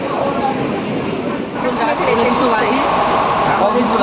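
Rumbling train noise at a station with a rising mechanical whine, while people talk over it throughout.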